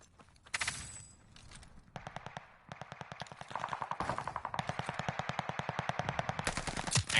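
Automatic weapons fire in a Call of Duty: Vanguard match on Champion Hill, rapid bursts of close shots that start sparse and build into a dense, sustained rattle, loud and without talk.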